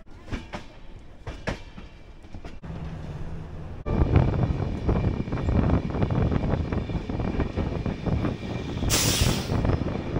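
The 13153 Gour Express, a passenger train from Kolkata toward Malda Town, runs along the tracks, heard from on board with rhythmic clattering over rail joints that grows louder and busier partway through, mixed with rumble and wind noise.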